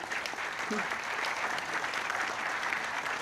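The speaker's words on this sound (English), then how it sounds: "give them a round of applause in appreciation" Audience at a skill-training programme launch applauding, a steady burst of clapping from a crowd throughout, moderately loud and even.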